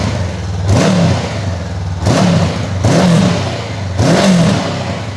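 A learner-approved motorcycle with its stock exhaust revs hard from close behind the bike, four distinct throttle blips rising and falling in a steady rhythm, loud and alone.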